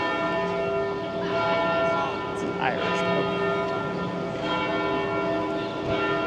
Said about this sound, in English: That's a lot of bell jingles.